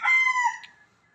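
A gamecock rooster crows once nearby, a single loud, clear call that trails off quickly, with no talking.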